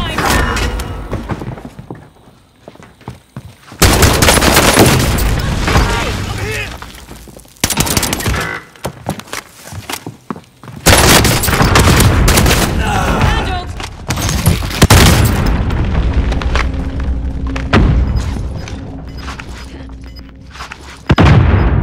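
Video game battle with bursts of gunfire and booming explosions, loud and dense, broken by short quiet gaps, with game voice lines heard amid the fighting.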